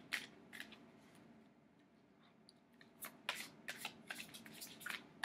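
Tarot cards being shuffled give off quiet, close crisp riffles and flicks in bursts, with no talking.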